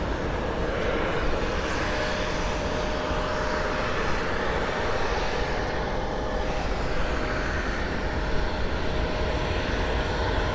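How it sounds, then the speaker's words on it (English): A Southwest airliner on final approach inbound from BWI to Cleveland Hopkins roars as a steady, loud, broadband jet rumble with a faint whine, sustained throughout without talk. "Southwest on final inbound from BWI."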